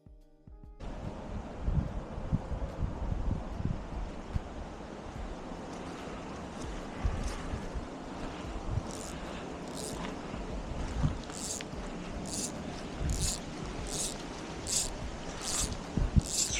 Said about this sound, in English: It's real windy today.